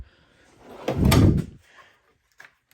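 A drawer on a US General 72-inch tool box rolls open with one smooth sliding rumble, followed by a couple of faint light clicks.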